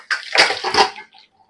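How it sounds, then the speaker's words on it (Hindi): Hot water pours off boiled potatoes into a colander in a home kitchen, a loud, brief splashing gush of about a second that quickly trails off to silence. "मैं इसमें ट्रांसफर कर देती हूँ ताकि सारा गर्म पानी भी निकल जाए"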